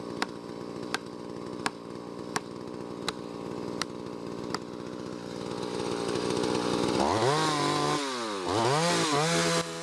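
A chainsaw cuts into a felled tree's stump, running steadily beneath a series of evenly spaced sharp knocks, then rising in load and pitch as the chain bites deeper, with the engine revving up and down.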